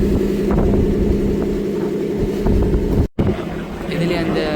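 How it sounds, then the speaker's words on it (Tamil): A boat speeds across open water near Nainativu in strong wind, with steady engine rumble and buffeting wind noise on the microphone, loud and close throughout. "ஏன்னா காற்றும் பலமாக வீசுது. அதோட வந்து போட்டும் கொஞ்சம் வேகமாக போகிற மாதிரி கிடக்கு."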